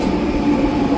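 A SkyTrain rolls through New Westminster station, a loud, close rumble with a steady low hum and rail noise, with no talk.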